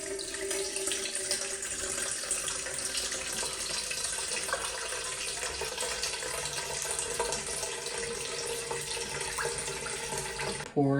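Melted 464 wax pouring into candle containers as a continuous, even liquid stream, faint and steady, cutting off abruptly at the end.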